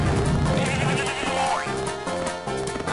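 A goat in the video game Home on the Range bleats a loud, wavering cry over game music, the call rising and falling for a few seconds.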